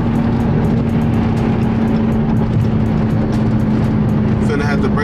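A Dodge Charger Hellcat SRT cruising in fifth gear gives a loud, steady engine drone with constant low rumble and road noise from inside the car, unbroken for the whole stretch.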